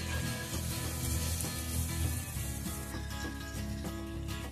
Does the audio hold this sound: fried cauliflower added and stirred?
yes